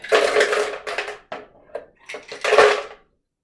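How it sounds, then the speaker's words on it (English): Ice cubes tipped into a blender jar in a kitchen, several clattering, rattling bursts of hard cubes striking plastic, close and fairly loud, then stopping abruptly into silence. "we're going to put our ice in our blender"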